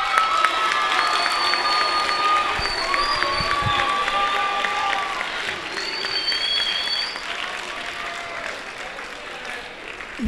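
An audience at a Bunnell High School forum claps and cheers loudly for students, a dense, steady wall of applause with whoops and shouts, and voices chatter throughout.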